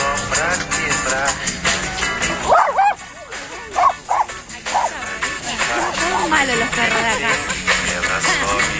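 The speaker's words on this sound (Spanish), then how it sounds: "Malos los perros de acá." Dogs bark and yip repeatedly at close range, with sharp overlapping barks and whiny yelps amid background noise and some talking.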